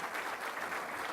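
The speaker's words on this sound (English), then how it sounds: "We should give a round of applause to Peggy, too." Short burst of applause at a public safety awards ceremony, a crowd clapping for an event organizer, fairly soft and steady for about a second.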